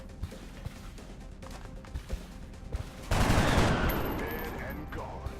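Rifle fire in the turn-based strategy game XCOM Long War, aimed at a sectoid: after a stretch of quiet background, a sudden loud burst of gunfire erupts and decays into a sustained rumbling roar, with brief talk early on.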